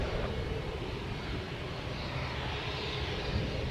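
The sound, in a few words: aircraft engine during takeoff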